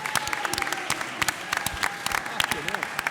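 Audience clapping at a press conference, a burst of dense applause carrying steadily throughout with a few voices and whoops mixed in.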